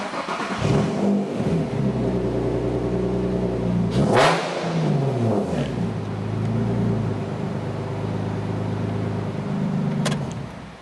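Nissan 350Z with a new ISR exhaust, engine revved repeatedly at close range, rising and falling through several loud throttle blips with a sharp crack midway and a steady rumble between revs.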